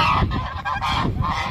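A flock of geese honking loudly and continuously while out grazing alongside ducks and turkeys, several overlapping calls in close succession with no talk.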